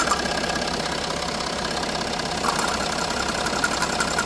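A Range Rover engine knocks from a vacuum leak at the engine mount, a steady dense mechanical clatter at idle heard close up and fairly loud, with no talk.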